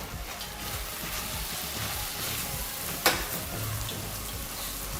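Vegetables sizzle and fry in a pan with seven-spice as they are stirred, a steady close crackle with one sharp clink of the spoon partway through.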